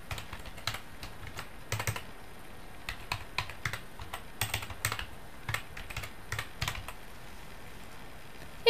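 Typing on a computer keyboard while entering a web page name for a hyperlink, heard as irregular bursts of soft key clicks spread across the stretch, fairly quiet and close, with no talking.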